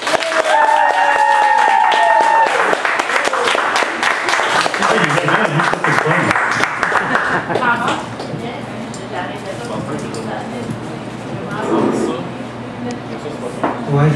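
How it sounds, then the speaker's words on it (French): An audience claps and cheers to welcome a poet at a poetry event, loud and dense at first, then thinning into scattered claps with voices and a whistle-like tone early on. "On va l'applaudir, on va l'accueillir comme nous seuls savons le faire."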